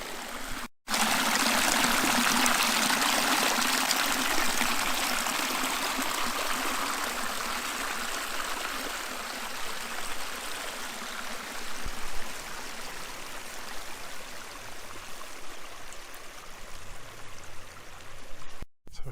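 Water pours steadily from a 2-inch pond overflow pipe running full, a loud continuous rushing gush that holds constant throughout.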